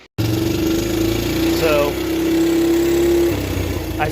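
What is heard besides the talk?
Suzuki Quadrunner ATV engine idling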